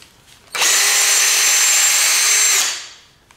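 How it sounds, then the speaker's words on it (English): A power drill with a titanium bit whines loudly and steadily for about two seconds as it bores into solid oak, then spins down to quiet. "Now let's drill into that solid oak."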